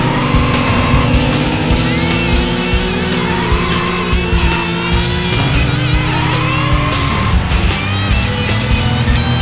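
Race cars start a race in the video game Racing Lagoon, several engines revving and whining at steady pitch with shifting tones and occasional tire squeal, continuous and loud throughout.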